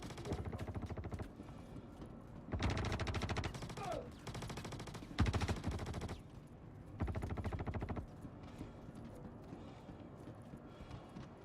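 Gunfire in the Star Citizen video game: several loud bursts of rapid automatic fire, each lasting about a second, separated by quieter gaps, with lighter pops continuing afterward.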